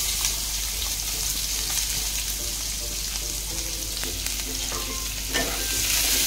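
Chopped onion sautéing in a pan with ginger-garlic paste for a dry Maharashtrian guar bean stir-fry, a steady loud sizzle with scraping stir strokes throughout, no talk.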